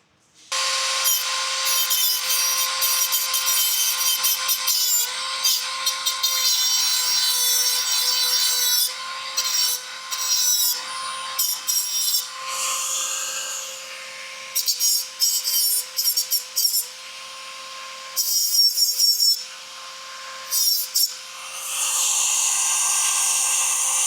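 A power tool trims metal parts near the wheel of a Harbor Freight DIY overland rooftop-tent trailer during a wheel and hub upgrade. It makes a loud, close, high-pitched grinding whine in long bursts broken by short pauses.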